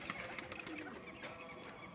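Pigeons at a rooftop loft, faint soft cooing and scattered bird calls with light background bustle, fairly distant and quiet.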